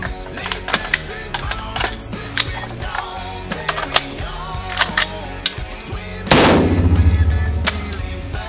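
An AR-15 rifle fires during a magazine test, a rapid string of sharp, close cracks in quick succession, then a heavier, longer boom and rumble near the end, no talking.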